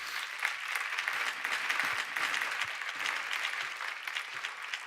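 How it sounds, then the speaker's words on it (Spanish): A church congregation applauds together, a full, even wash of clapping from many hands that continues steadily for several seconds with some faint voices in the background. "Dele un aplauso al Señor."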